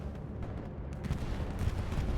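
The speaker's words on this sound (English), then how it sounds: "Here comes a bombing run. That seems to be a Helios bombing run." A bombing run in the Hell Let Loose game on the Utah Beach map, a dense rumble of distant explosions and crackling gunfire building slightly in intensity, with no voices.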